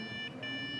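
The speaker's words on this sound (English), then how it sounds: "It's beeping." Electronic beeping from a newly built PC with a 12900K in an NZXT H710i case, steady high tones with two brief dips, close and fairly quiet against a low room hum.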